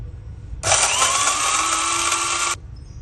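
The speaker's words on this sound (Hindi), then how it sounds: "अब इसका मैं पीस लूँगी ग्राइंडर के अंदर डाल के ना।" Electric spice grinder whirring as it grinds whole garam masala spices: a loud, steady motor roar that starts abruptly, runs for about two seconds and stops cleanly.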